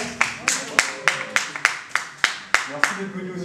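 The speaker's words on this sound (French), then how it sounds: "On va applaudir s'il vous plaît." Audience applause at a press conference, heard as a series of about ten distinct, fairly loud hand claps in a steady rhythm rather than a dense ovation, with a voice speaking between them.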